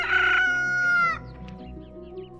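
A rooster crows once, loud and close, its drawn-out call rising then tapering off, followed by quiet background.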